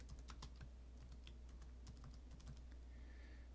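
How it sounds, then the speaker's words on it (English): Soft, rapid keystrokes on a computer keyboard, a brief flurry of light taps over a constant low mains hum, quiet and close. "Type in the name."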